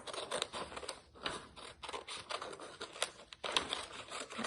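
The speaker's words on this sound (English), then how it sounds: "So you're gonna cut your wiggly and your zigzag lines out while you're doing this." Scissors cut wiggly and zigzag lines in paper during an art class, a quiet close series of rapid crisp snips and rustles with brief pauses as the paper turns.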